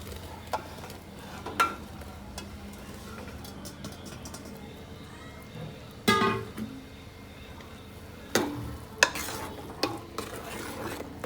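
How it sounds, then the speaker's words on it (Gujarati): Crumbled millet rotlo stirred into a boiling pot, a low steady bubbling simmer broken by a few sharper scraping clinks of a spoon against the pot at intervals. "હવે જો ઉકળી ગયું છે, હવે મસ્ત રોટલો આમાં નાખી દેવાનો"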